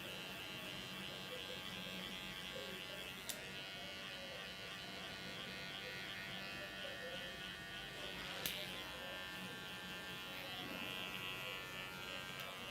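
Electric hair clippers on a 0.8 setting touch up the hairline of a flat-top cut at a hairdressing academy. A faint, steady buzz runs throughout, broken by two brief sharp clicks.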